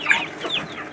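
Three-day-old chicks at a meat chicken farm chirp and cheep in a busy flock, high peeping calls overlapping close by with no talking.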